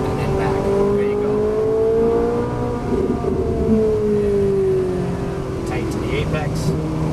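A Ferrari 458 Italia engine drones and rises in pitch as the car accelerates around a track, heard from inside the cabin with an instructor talking over it.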